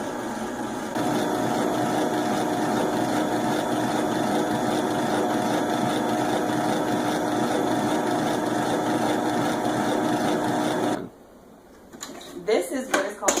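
An electric mixer whips cream toward stiff peaks, a steady close whirring drone with a clattering whisk that runs for about eleven seconds, then stops abruptly before a few soft clinks.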